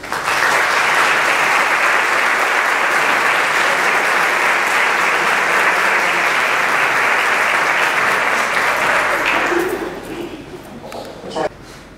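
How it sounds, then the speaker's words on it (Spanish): An audience at a seniors' university graduation ceremony in Algeciras claps loudly and steadily for about ten seconds, then the applause fades to scattered claps. "Merecen el sincero aplauso de todos los ciudadanos"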